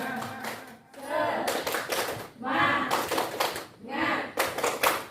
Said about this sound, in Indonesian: kita kasih dulu tepuk semangat guys ya